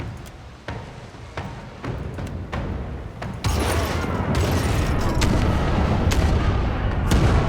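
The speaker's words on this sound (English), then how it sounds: "fire the starboard cannons" Starboard ship cannons firing in a naval battle video game, a series of sharp booming shots that swell into a dense, loud barrage of overlapping blasts.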